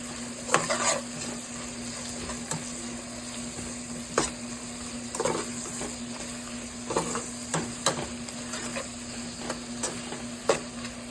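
Vegetables for noodles sizzle and fry in a pan while being stirred, with scraping stir strokes popping up every second or so over a steady frying hiss.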